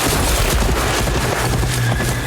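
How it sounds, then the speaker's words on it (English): A horse neighs and its hooves clip-clop amid a loud, dense, continuous action scene from The Last of Us TV series, the whole stretch busy and full without any talk. "Getting dragged by a horse?"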